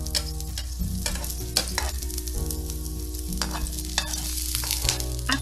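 Garlic frying in a little cooking oil in a pan, a loud, close, continuous sizzle with sharp crackles and several stirring scrapes, background music playing underneath and no voices.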